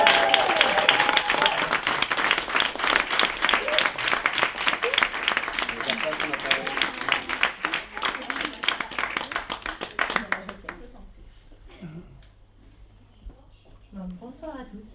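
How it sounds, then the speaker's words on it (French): Audience applause at a slam poetry evening, a dense crowd of clapping for about ten seconds that thins out and fades, leaving a few scattered claps and a voice speaking near the end. "j'aimerais que vraiment vous les applaudissiez"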